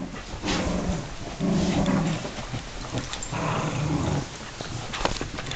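A dog growls during play with a toy, low rumbling growls in several bursts over steady background noise.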